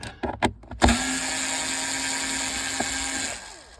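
A power driver unscrewing a screw behind the radio of a Ford C-Max, a few clicks and knocks followed by a steady, close whirring drone lasting a few seconds before stopping.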